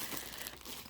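Plastic packaging crinkles briefly and closely as a Michael Kors backpack is unpacked, a dense rustle lasting under a second.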